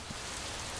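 Heavy rain pouring down in a steady, dense hiss that holds evenly through a brief moment, with no voices.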